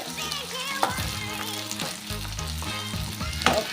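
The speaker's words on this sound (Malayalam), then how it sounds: "നമ്മൾക്കിങ്ങനെ ഇളക്കിക്കൊണ്ടിരിക്കുകയാണ്. നല്ല രസമുണ്ട് ഇളകുന്ന ശബ്ദം കേൾക്കല്ലേ ഗായ്സ്?" Maggi noodles sizzle in a pan while being stirred, a continuous close frying hiss with a few louder scraping strokes of the spoon, under background music.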